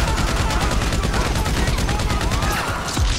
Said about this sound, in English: I like the combat machine gun, probably the best